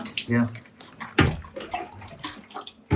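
Water poured in splashing bursts while a puppy is bathed, loud and close, with irregular sloshes and gushes mixed with people talking in the same room.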